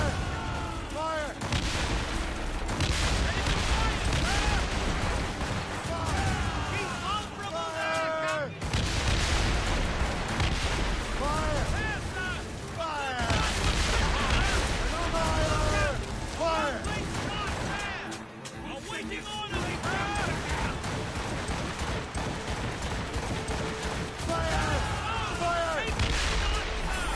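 Naval cannons boom repeatedly during an ambush in a pirate-era video game, a dense, continuous barrage of blasts layered with music and shouted voices throughout.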